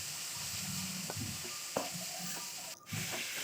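Shrimp frying in a pan for an oyster-sauce shrimp dish gives a steady, close sizzle and hiss, with a few soft stirring clicks and scrapes on top.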